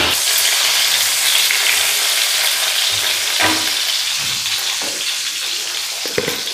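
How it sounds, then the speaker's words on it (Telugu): Brinjals fry and soften in oil in a home kitchen pan, a dense, steady, close sizzle with a few soft stirring knocks and clinks near the end, no talking. "ఆయిల్లో బాగా వేసుకొని మగ్గించుకోవాలి"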